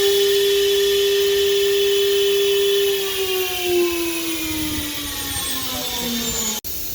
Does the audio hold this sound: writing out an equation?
no